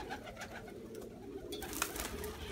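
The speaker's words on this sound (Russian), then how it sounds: "На голубей смотришь." Pigeons coo softly in a pigeon loft, giving low, repeated murmuring calls over faint background noise, with a few brief brighter sounds nearby.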